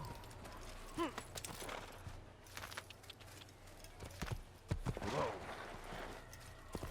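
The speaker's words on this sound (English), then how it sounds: "I like the white horse." A white horse's hooves clop at a walk in the Assassin's Creed video game, quiet, uneven hoof strikes with faint jingling under low background noise and occasional voice sounds.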